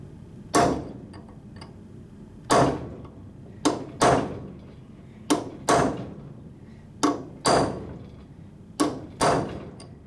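A hammer strikes a cold chisel to split a metal nut, sharp ringing metallic blows landing about a dozen times at an uneven pace, sometimes in quick pairs, each with a short ringing decay.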